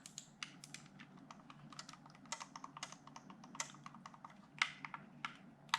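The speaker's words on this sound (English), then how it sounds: "It's got very nice clicking buttons" Buttons on a Razer Raiju Mobile controller are clicked repeatedly, a run of quiet, crisp, close plastic clicks at an uneven rhythm with no talking.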